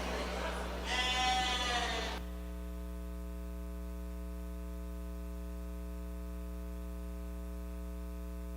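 Sheep bleating at a livestock show by the barns at the Alberta Provincial show in Stettler: one loud, wavering bleat up close lasting about a second, followed by a steady electrical hum.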